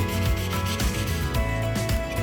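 Hand sanding across a cast Jesmonite piece, a close, steady rasping scrape repeated in quick strokes with no talk.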